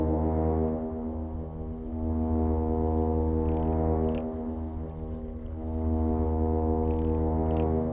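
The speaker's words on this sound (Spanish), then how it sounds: "3 largos pitidos de su bocina" A ship's foghorn sounds long, deep blasts at sea, a low steady tone with strong harmonics that swells and eases, filling the whole stretch with no talk over it.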